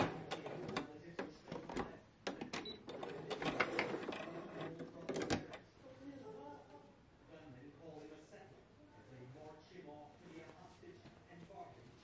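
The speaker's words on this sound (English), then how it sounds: "I'm going to try it on just a scrap piece of fabric." A sewing machine fitted with a gathering foot stitches scrap fabric in a rapid, clattering mechanical burst lasting several seconds, then stops as a person talks quietly.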